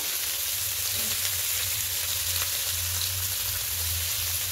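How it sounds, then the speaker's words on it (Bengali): Spices with salt, turmeric and Kashmiri chilli powder sautéing in a hot frying pan, giving a continuous even sizzle throughout with no talk. "দিয়ে খুব ভালো করে এটাকে একটু কষিয়ে নেব।"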